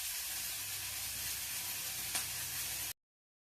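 Tamarind leaves frying in a little oil in a pan make a steady, close hiss and sizzle that continues unbroken, with one brief clink near the end before it cuts off.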